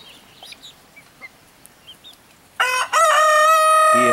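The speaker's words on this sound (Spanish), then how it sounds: "ese gallo que no se calla la boca está todo el tiempo ahí cantaleteando" A rooster crows loudly and close by on a farm, one long drawn-out call following a few seconds of faint chirps and clucks, including guinea fowl, in the background.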